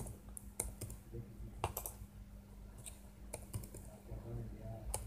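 Scattered keyboard key clicks while typing Tamil text on a computer, a few isolated taps and short bursts, close and fairly quiet over a steady low hum.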